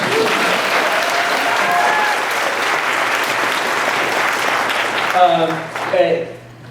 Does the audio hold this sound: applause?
yes